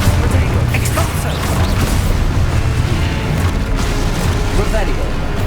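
Spell blasts in Hogwarts Legacy boom and crash in a dense, continuous run of impacts and rumbling debris, with a voice calling out over the din.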